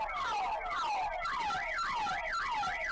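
Cheap aftermarket Russian car alarms cycle through patterns: descending whoops, then a rapid warbling up-and-down tone, loud and steady with no talking.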